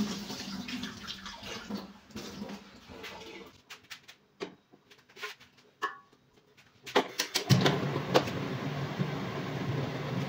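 A bucket filling with water at an outdoor health camp, a steady rushing splash that breaks off midway and then returns louder, with faint birds and traffic in the background.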